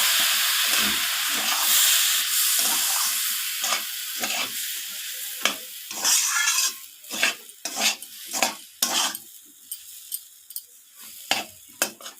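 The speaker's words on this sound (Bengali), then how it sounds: "এইভাবে অল্প অল্প করে জল দিয়ে দিয়ে সুজিটাকে নাড়াতে থাকবো" Semolina being stirred in a pan with small additions of water while making spicy suji, with a steady scraping stir and sizzling hiss that thins into separate clicks and scrapes toward the end; no talking.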